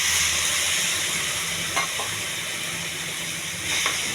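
Onions with salt and cumin powder sizzle steadily in a pan after a splash of water is added, a continuous hiss with faint stirring scrapes near the middle and end.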